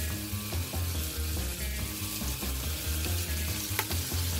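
Onions and then carrots sizzle steadily in a hot pan beside seared beef cheeks, a continuous close frying hiss with faint stirring scrapes and a small clatter, no talking over it.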